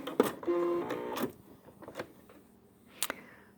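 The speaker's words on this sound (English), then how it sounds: "now I'll just cut the threads so we can look at everything" An embroidery machine trims its threads with a few short, close mechanical whirs and clacks, then a quieter pause and one final sharp click.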